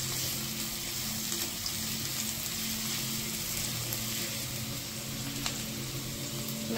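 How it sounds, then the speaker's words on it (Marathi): Beans fry in a pan for veg hakka noodles. A constant, even hiss of sizzling fills the whole stretch at moderate loudness, with no talking. "बीन्स फ्राय करया."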